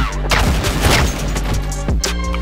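Counter-Strike gunfire rings out as a loud, continuous burst of shots with booming low end, a sharp extra report near the end, and a voice speaking briefly underneath.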